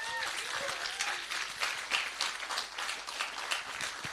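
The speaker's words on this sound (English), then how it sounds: "One more round of applause." Sustained audience applause at the inaugural LUMIX 72-hour filmmaking challenge event, a dense steady wash of many hands clapping at fairly even loudness for the whole span, with no voices over it.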